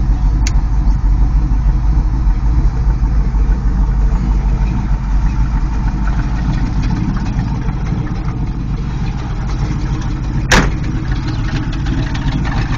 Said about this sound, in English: And now I'll start the car up for you.